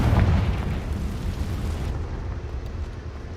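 A Confringo blasting spell explodes in a video game, a loud burst that opens with a sharp crack and then rolls off into a long, fading rumble.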